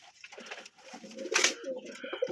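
A Jalali pigeon with pearl eyes coos close by in a loft, soft throaty coos with a brief rustle of wings midway.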